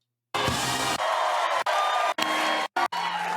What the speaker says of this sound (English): Okay, I don't need all this applause.